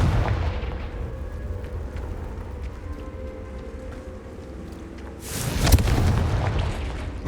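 Blasting spell explosion in the video game Hogwarts Legacy: a sharp, loud burst of impact near the end, rising out of a busy, rumbling combat soundscape of lower booms.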